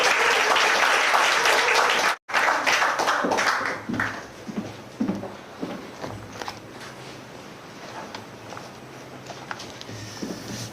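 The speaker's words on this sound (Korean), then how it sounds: "우리 박수로 환영하겠습니다." Audience applause welcoming a pastor as he takes the stage, loud dense clapping that breaks off sharply, then resumes and thins into scattered claps and taps before fading out.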